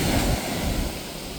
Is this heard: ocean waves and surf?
yes